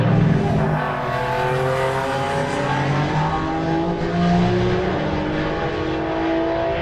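Several race cars, among them a new Ford Mustang, roar past on a circuit during a sporting car club nationals race, with loud sustained engine tones rising and shifting as they fight for position.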